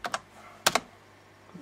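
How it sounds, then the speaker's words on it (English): Password being typed on a computer keyboard during an Ubuntu 9.10 login: a few sharp, close key clicks in two quick pairs separated by a pause, with no talking. "Press enter and type in my password."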